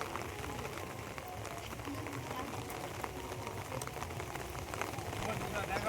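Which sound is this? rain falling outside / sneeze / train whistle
rain falling outside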